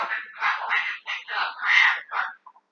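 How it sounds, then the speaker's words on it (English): A pet parrot calls close by in a string of raspy, chattering squawks and whistles, loud and uneven, with a brief quiet trailing note at the end. "the parrot hears me talking. He thinks I'm talking to him."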